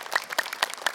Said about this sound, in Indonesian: Tepuk tangan dulu dong Bu buat Pak Ustadz Maulana.